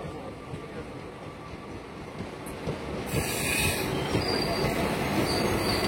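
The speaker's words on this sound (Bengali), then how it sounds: "কাঁথি রেলওয়ে স্টেশনে 1 নম্বর প্ল্যাটফর্মে প্রবেশ করলো পাহাড়িয়া এক্সপ্রেস 15722" The Paharia Express 15722 rolls into platform 1 at Kanthi railway station with a rumbling clatter and high metallic wheel squeal, growing louder and nearer as it comes alongside.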